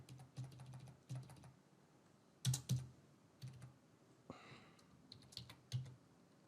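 Close-up typing on a computer keyboard while entering test debit card details on a payment page, with bursts of quick key clicks separated by short pauses and a few louder keystrokes.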